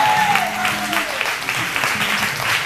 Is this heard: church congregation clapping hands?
yes